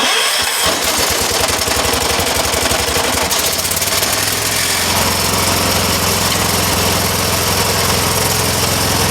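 A 212 small engine in a homemade vehicle starts up after a cranking burst and settles into a loud, continuous rough idle with heavy shaking rattle, close and alone.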